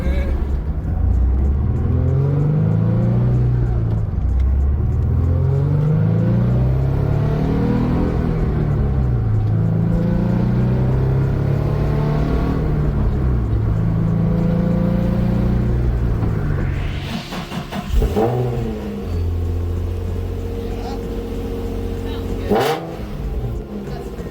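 Car fitted with an S-Tune aftermarket exhaust revving repeatedly in a steady rhythm of deep rising and falling engine swells, loud and close, with the engine then settling toward a lower rumble and one sharp blip near the end.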